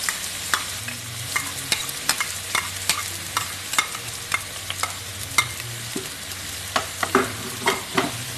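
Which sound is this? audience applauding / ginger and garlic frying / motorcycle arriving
ginger and garlic frying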